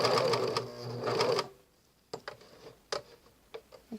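A Juki serger stitching over the corner of a cloth napkin runs in a loud fast whirring burst for about a second and a half, then stops. Sharp ticks and clicks of the machine being handled follow.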